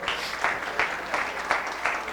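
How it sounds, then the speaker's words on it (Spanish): A church congregation claps together during an evangelical service, a brisk, dense burst of applause with a few rhythmic pulses, fairly loud and close, lasting about two seconds with no talk over it. "Dele un fuerte aplauso al Señor."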